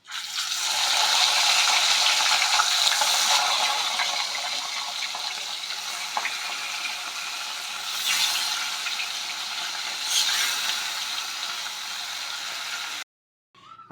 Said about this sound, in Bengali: আমরা বাকি মাছগুলো ওরকম লাল লাল করে ভেজে নিয়েছি।